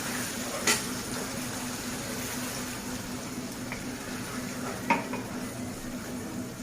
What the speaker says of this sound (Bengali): এবারে অল্প মশলার জল দিয়ে এটাকে আমি কষাবো ভালোভাবে।